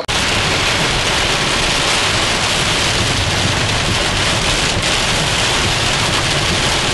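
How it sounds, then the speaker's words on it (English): Heavy rain pours down in a loud, unbroken roar, thick and constant throughout, like a downpour hammering nearby surfaces. "It's been raining like pouring piss out of a boot."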